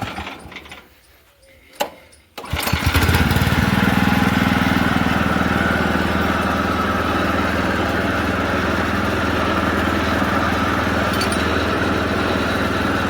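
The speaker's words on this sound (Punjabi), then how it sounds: "ਮੋਟਰ ਦਾ ਪੂਰਾ ਐਨ ਵਧੀਆ ਚੱਲਦਾ ਹੈ" A farm water pump motor engine in a Punjab village field sits quiet at first, then starts up and runs loud and steady with an even mechanical drone close by.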